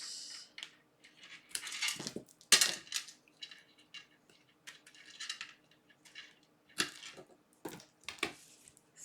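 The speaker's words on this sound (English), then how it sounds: "Take our scissors." Scissors cut through paper while a pine snowflake card is made, giving a few short, crisp snips and rustles close by, with paper handling sounds between and no talking.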